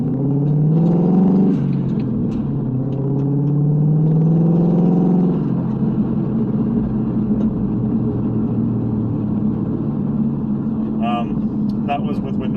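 A car with a newly fitted exhaust accelerates on a road at around 40 mph, windows up, giving a steady low engine rumble that rises in pitch across the pull, with a person talking over it.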